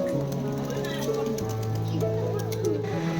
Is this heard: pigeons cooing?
yes